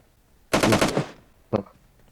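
Automatic gunfire in PUBG Mobile: a rapid burst of about five shots in quick rhythm, followed a second later by a single separate shot, loud and close over a quiet background.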